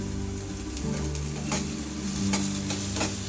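Halved onion and green capsicum fry in a pan with a steady, close sizzle and occasional stirring scrapes, no voices over it.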